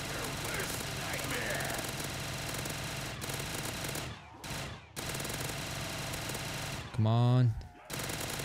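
Gunfire in a zombie video game, a steady dense stream of rapid shots running for several seconds, a short pause, then a louder burst near the end, with a player talking excitedly over it.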